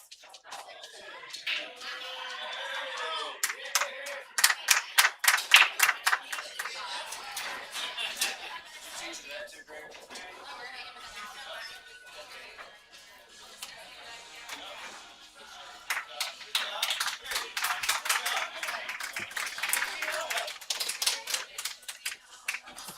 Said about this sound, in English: I heard clapping and looked up for one brief moment.